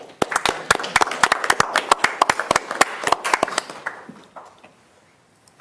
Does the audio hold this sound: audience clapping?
yes